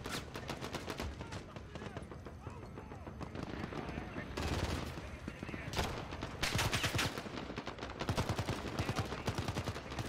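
Continuous automatic gunfire rattles through a Warzone campaign battle scene, with dense rapid bursts and heavier volleys, loud and relentless across ten seconds while a voice speaks underneath.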